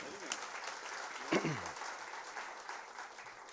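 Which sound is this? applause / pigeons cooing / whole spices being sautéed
applause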